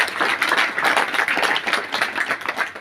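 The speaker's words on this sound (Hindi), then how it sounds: "जोरदार तालियों से सर का अभिनंदन कीजिएगा" An audience at a teachers' camp gathering claps loudly and continuously for an honoured official, a dense, even patter of many hands with no voices over it.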